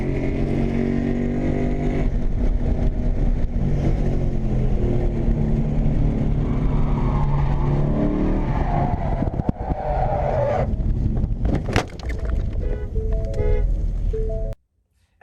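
A Ford Mustang driving at speed on a race track, its engine roaring loud and close, then trailing off before a few sharp rattles and a sudden cutoff at the end.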